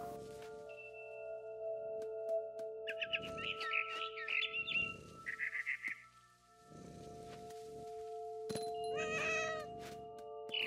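Cat in the video game What Remains of Edith Finch, several distinct meows and drawn-out cries spread across the clip over a quiet humming game background, with scattered high chirps mixed in.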